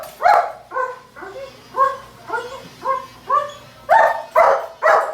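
A German Shepherd barks repeatedly at close range, with about ten loud, evenly spaced barks in a steady rhythm and a few higher, whiny yips among them.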